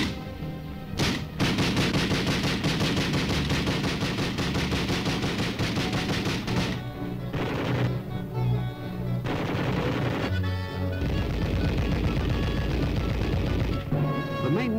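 Army weapons test firing in the Alaskan Arctic, a dense sustained barrage of loud gunfire and heavy booms that runs almost without a break, with brief pauses between volleys.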